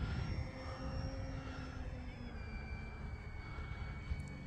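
An E-flite Beechcraft D18 RC model plane flying over grass at about quarter throttle, its engine whine droning steadily at mid distance with gently shifting pitch and wind noise underneath.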